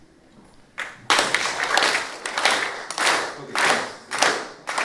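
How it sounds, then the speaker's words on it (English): An audience attempts to clap in unison at a talk, starting with scattered, chaotic claps that build into loud, rhythmic bursts of applause repeating roughly every half second, with a brief spoken word at the start. "can you clap synchronously?"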